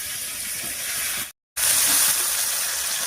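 Taro leaves go into a pan where shrimp are frying in oil with turmeric and salt. A loud, steady sizzle breaks off for a moment and then resumes even stronger.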